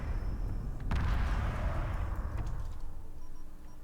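Capital ship cannons fire in Homeworld HD Remastered, giving a dense, rumbling space-battle wash with a strong percussive blast about a second in, then a slow fade.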